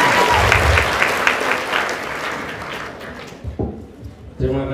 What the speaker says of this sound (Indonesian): Kita berikan tepuk tangan semuanya.